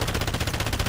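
A fast burst of automatic gunfire from Call of Duty DMZ rattles in a tight, even rhythm of about a dozen close, loud shots.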